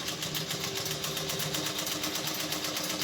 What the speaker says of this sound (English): So you can see the machine is stitching nicely